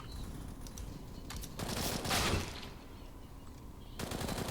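Gunfire in a video game sounds as faint bursts of rapid shots. A stronger volley comes near the middle and another starts at the end, set over low background noise.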